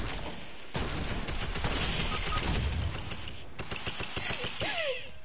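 Gunshots in a Fortnite match ring out as a loud, rapid burst of automatic fire, then come back in sharp clustered shots. Light, faint bits of voice sit under the shooting.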